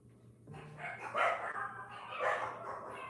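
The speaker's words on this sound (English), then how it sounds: "The dogs they always let me know." Dogs barking at a home business to announce an arriving customer, a few quick muffled barks in a short cluster at moderate distance.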